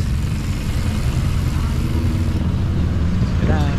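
Motorcycle and car engines drone steadily from the road as many motorcycles pass, a constant close traffic hum with voices heard faintly beneath.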